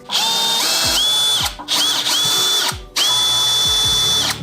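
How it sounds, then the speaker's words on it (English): A power screwdriver whirs in three bursts as it backs out pickup screws on a guitar, loud and close, with brief pauses and pitch dips as the motor stops and restarts. "you do have to unscrew this large pickup screw here"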